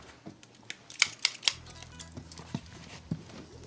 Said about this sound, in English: Oh, there's some scissors. That'll do.